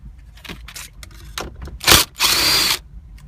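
A power tool spinning out 10mm bolts from the navigation unit in a Lexus IS250/IS350 dashboard, with short whirring bursts followed by a longer, louder buzz up close.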